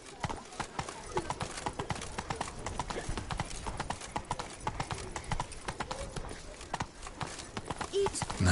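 Roach, the horse in The Witcher, clip-clops along in a quick, steady hoofbeat rhythm that lasts throughout, at a moderate level, with voices faintly present.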